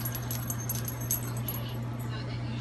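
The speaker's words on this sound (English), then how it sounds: "Like barking like crazy while we're talking." Two excited pet puppies bark and yip in a home, greeting their owner who just got home; the barking comes in bursts over a steady low hum.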